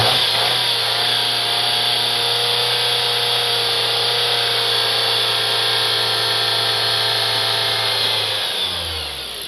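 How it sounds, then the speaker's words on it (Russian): A 2008 Dodge Caliber 2.0-litre engine is held at high revs, a loud, sustained mechanical whine and drone that holds steady for several seconds before the revs drop away at the very end. "Работа двигателя на высоких оборотах."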